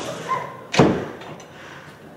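A door swings shut with a single solid thud, heard up close amid faint room noise.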